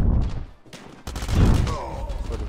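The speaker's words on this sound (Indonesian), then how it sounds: "Waduh, shotgun, ada shotgun." Shotgun blasts in the video game COD Mobile, a few heavy booming shots close by with a brief lull between them, amid game noise and some talk.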